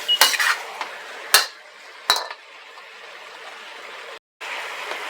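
Beef being stirred back into a tatsoi stir fry in a pan: a few sharp metallic utensil clanks against the pan over a soft, steady sizzle, close and clear, with no talking.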